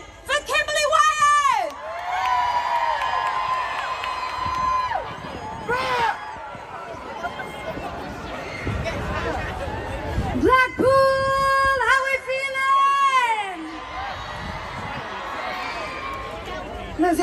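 A concert crowd cheers and whoops for a live DJ set at the Blackpool Illuminations, with bursts of shouting and high screams rising and falling around a host speaking loudly over them.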